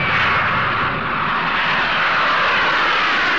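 Loud, steady roar of the jet engines of an Antonov An-124 strategic airlifter, a broad sustained rumble that fills the whole stretch without a break.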